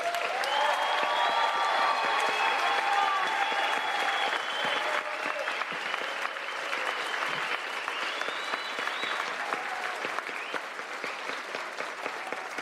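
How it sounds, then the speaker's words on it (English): A large audience at the Kings Park High School graduation applauds the graduates, with steady, sustained clapping from many hands filling a big hall for the whole stretch, while a few voices murmur beneath. "Can we have a round of applause for our graduates?"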